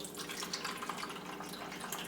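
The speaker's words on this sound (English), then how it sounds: "I'm just going to get some of the juices out of here. And pour it into the mixing bowl." A continuous trickle of chicken juices poured into a mixing bowl, soft and close, with no talking.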